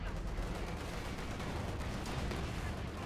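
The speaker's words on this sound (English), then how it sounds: "Shot fired." Gunfire in the World War II strategy game Company of Heroes 2, a dense, steady battle din of shots and distant rumbling fire that never lets up, with no clear gaps and faint voices mixed underneath.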